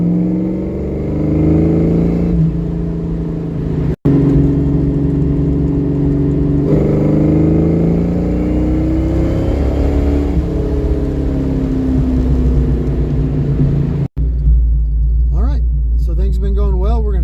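Carbureted Ford Mustang engine with a recurved Duraspark 2 distributor running while driving, a loud, close, steady drone whose pitch rises and falls with speed changes, briefly cutting out twice.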